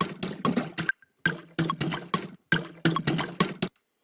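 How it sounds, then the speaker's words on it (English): A watery, wet-sounding percussion sample in a psytrance production plays in short choppy bursts, loud and dry, with brief silent gaps between clustered hits. "And now it kind of sounds like a water percussion"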